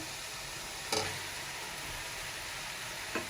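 Tomatoes go into frying masala for mutton pulao, a steady close sizzle with two sharp splattering bursts, the first loud near the start and a smaller one near the end.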